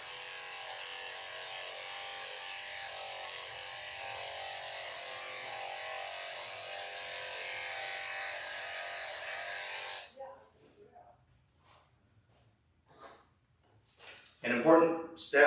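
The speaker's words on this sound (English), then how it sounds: "So I'm going to start shaving her back." An electric clipper fitted with a number 7 blade shaves a Yorkipoo dog's back, giving a steady, close buzz for about ten seconds before cutting off; a voice speaks briefly afterward.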